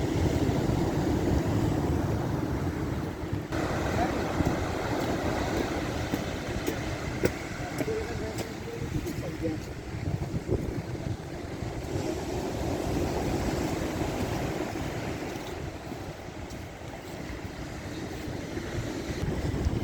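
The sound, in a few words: wind on a beach walk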